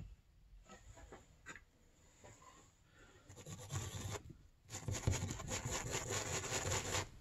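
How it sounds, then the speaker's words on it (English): A wire brush scrubs Arctic Cat ZR 600 EFI snowmobile power valves with brake cleaner, a dry, rasping scratch in short quiet strokes that grows into louder, faster continuous scrubbing close to the microphone. "you can get some brake clean and a wire brush"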